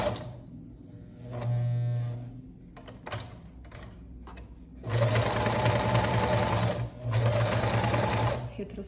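A sewing machine stitches fabric strips for a dish towel in bursts: a short run, then two longer loud runs of steady motor whir and needle clatter, with quiet handling sounds between.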